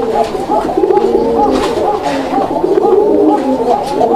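A pigeon market crowded with birds, many pigeons cooing over one another in a dense, continuous murmur close by, with faint voices mixed in.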